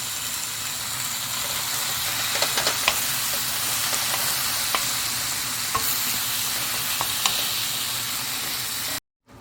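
Raw minced turkey sizzles steadily in a hot pan with a continuous hiss, punctuated by scraping clicks of stirring, close and alone without talk, ending abruptly.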